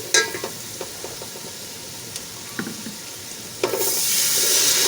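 Turmeric and chilli spice paste frying in a pot for potato rice: quiet sizzling with scattered spoon clicks and stirs, then a splash of water added near the end brings a louder, hissing burst of sizzle.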